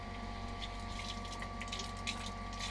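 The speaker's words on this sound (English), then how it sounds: "I open the drain on the hot water tank." Water drains steadily from a boat's hot water tank during winterizing while the system is pressurized with air, producing a constant close rushing flow with a faint steady hum beneath.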